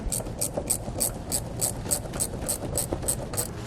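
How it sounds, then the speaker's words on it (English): Rapid ratcheting of a 10mm socket wrench tightening the bracket hardware on Westin PRO TRAXX oval nerf bars on a 2019 GMC Canyon, a steady run of about a dozen crisp, close metallic clicks with no talk. "We're going to use a 10mm socket and wrench to do so."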